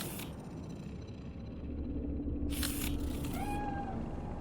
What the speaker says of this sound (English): It's a cat like any other.